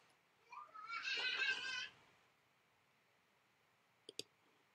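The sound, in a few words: computer mouse clicking in pattern-making software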